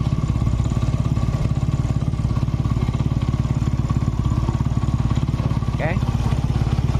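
A Yamaha Jupiter Z motorcycle with an ignition problem runs at a steady, loud idle close by, its even pulsing beat carrying a faint rhythmic ticking from the engine throughout.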